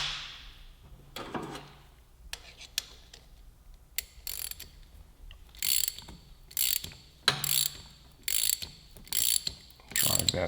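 A Motion Pro PBR chain tool is snugged onto a motorcycle chain with a ratchet wrench. Bursts of quick metallic ratchet clicking come in short repeated strokes with pauses between them, close and alone.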